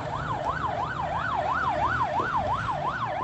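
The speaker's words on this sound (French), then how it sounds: "Cette sirène qu'on entend siffler au quartier Bessengue à Douala" A siren wails in the Bessengue district of Douala, Cameroon, its tone sweeping steadily up and down about twice a second, loud and continuous over low street rumble.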